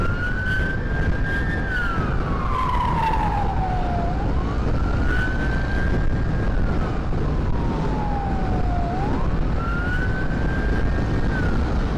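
A two-tone wailing ambulance siren on a road at dusk sweeps steadily up and down, loud and continuous throughout over steady traffic noise, with no talk.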